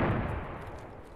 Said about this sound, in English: The mortar event is actually insane.